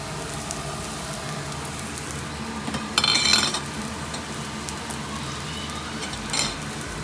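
Garlic hits a hot wok for a stir-fry gravy, with a loud steady sizzle, a sharp burst of spitting and ladle scraping near the middle, then a smaller flare near the end.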